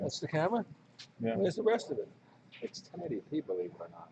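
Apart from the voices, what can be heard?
None of the usual background noises is heard.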